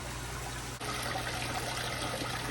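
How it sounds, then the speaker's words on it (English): Water from a pump with a speed controller runs down a gold-prospecting sluice, a steady, close trickling and rushing flow that swells slightly after a brief dip. "And down comes the water."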